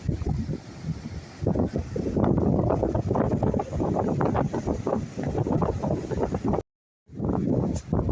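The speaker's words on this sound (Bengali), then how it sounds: "প্রচুর হাওয়া, এত হাওয়া বলার না।" Strong wind buffets the microphone at Gopalpur beach, a loud, continuous gusty roar with surging bursts and a brief cut-out near the end.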